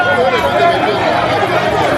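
A crowd queues for 100 naira bread on a street on Lagos Island, Nigeria, a loud, continuous babble of many voices close by, with overlapping chatter and no single speaker standing out.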